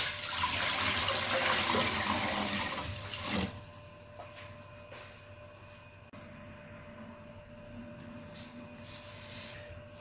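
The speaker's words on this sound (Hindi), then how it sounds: "पहले हम डालेंगे पानी।" Water poured into a cooking pot for dal chana fry, a loud, steady splashing stream for about three seconds that stops abruptly, followed by quieter kitchen clinks and rustles.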